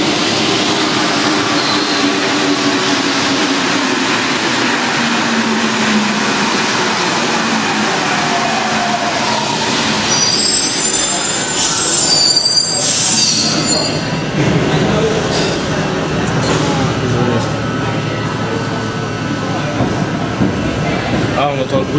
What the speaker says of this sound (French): On entend le bruit triste de la MP05.